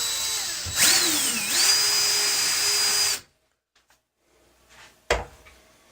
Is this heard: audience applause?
no